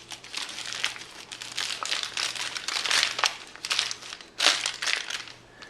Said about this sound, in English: Roll it back down tightly, and then roll it in from the edges. This makes a fairly tight little foil package.